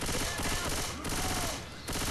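Rapid automatic gunfire from the Left 4 Dead 2 zombie shooter, loud and continuous bursts of shots filling the whole stretch with no pause.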